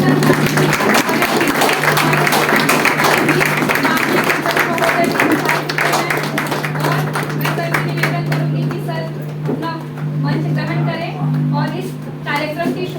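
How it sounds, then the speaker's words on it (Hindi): An audience at a university event gives loud, sustained applause to welcome the vice-chancellor, a dense clatter of hands over a steady low hum that thins slightly in the later seconds as voices emerge. "हम लोग जोरदार तालियों के साथ उनका स्वागत करेंगे"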